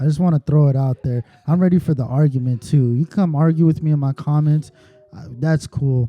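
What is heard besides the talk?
None of the usual background noises is heard.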